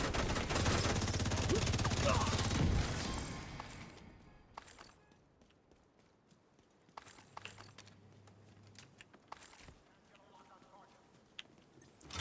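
Video game gunfire, including light machine gun fire, hammers loudly in a dense automatic burst for the first few seconds, then drops away to quiet, with a later muffled burst and scattered faint shots.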